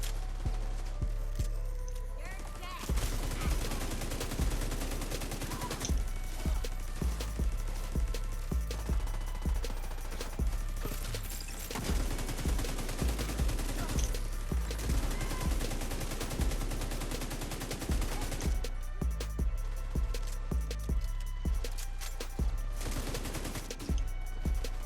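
Pestilence light machine gun firing in The Division 2, with long sustained bursts of rapid, loud automatic fire, brief pauses between volleys, and a dense battle din of overlapping shots throughout.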